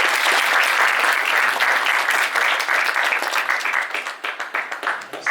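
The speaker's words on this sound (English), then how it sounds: "Please give them a round of applause." A crowd at a talk about Palestine applauds loudly and continuously, with the clapping thinning into more distinct individual claps toward the end.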